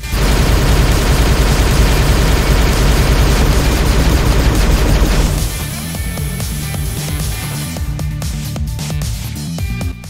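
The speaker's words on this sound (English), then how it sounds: "I got this number when I fire the first shot to the point where the game tells me to vent the gun" Plasma Repeater in the game Halo Reach fires a rapid, continuous stream of shots, loud and dense for about five seconds, then continues at a slower, thinner rate as the gun overheats.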